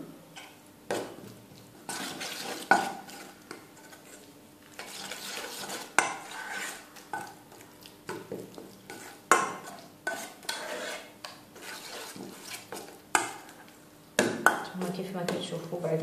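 Pesto pasta salad ingredients are mixed with a splash of water in a bowl, making intermittent wet stirring and clinking utensil sounds in short bursts, fairly quiet, with a voice speaking between them.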